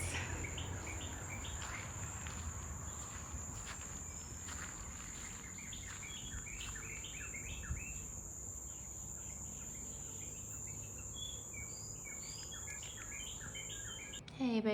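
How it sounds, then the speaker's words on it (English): Dense, steady chorus of crickets and insects with repeated bird chirps and calls throughout, a continuous outdoor jungle ambience with no talking. "You can hear birds and insects."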